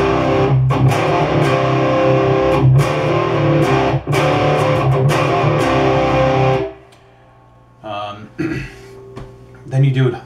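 Distorted electric guitar riff from a song, played loud and continuous with rhythmic attacks before cutting off, followed by a few scattered quieter strums.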